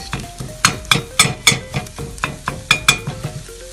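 Scrambled egg cooks in an oiled iron pan, with soft sizzling under a series of distinct clinks and scrapes as a utensil stirs against the pan, close and without talk.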